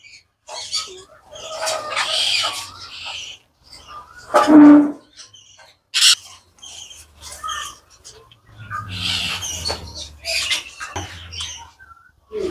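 Sun conures and crimson-bellied conures in aviary cages give scattered loud, harsh squawks and chirps, some close and piercing, separated by quiet gaps and shuffling noises.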